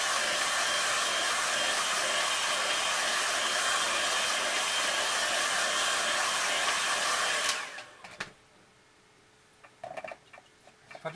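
A hair dryer blows loudly and steadily close by while drying a watercolour painting, then cuts off after about seven and a half seconds, leaving faint handling noises.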